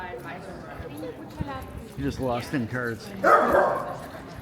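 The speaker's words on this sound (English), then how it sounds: "bark coming. Small dog, big bark." A small dog lets out a few sharp barks in the middle distance, mixed in with people talking close by.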